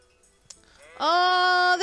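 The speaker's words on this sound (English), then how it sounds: "Oh, the sheep are cute!" A sheep in the medieval video game Kingdom Come: Deliverance gives one loud, sustained bleat after a short quiet lead-in.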